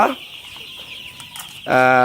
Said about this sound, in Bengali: সালাম ভাই আপনার মুরগির বাচ্চা